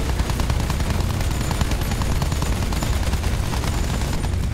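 Dense, continuous gunfire from Battlefield 1 as a bomber is shot at, rapid machine-gun bursts and booms packed together at full loudness with no pauses.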